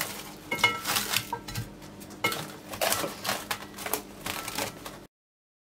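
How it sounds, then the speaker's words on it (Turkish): Cling film crinkles and rustles as it is pressed into a cake mold for an icebox biscuit cake, close-up and fairly loud in a series of uneven scrunching bursts with brief pauses, no talking. "Şöyle rahatlıkla daha sonrasında çıkarmak için streç filmi kaplıyorum."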